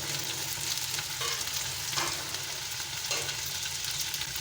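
Okra and potatoes with green chillies fry in a pan, giving a soft, steady sizzle with a few stirring scrapes at intervals.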